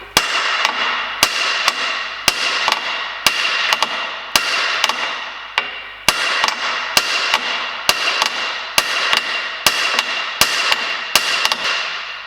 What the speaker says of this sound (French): avec une barre, un marteau d'un côté, un petit marteau de l'autre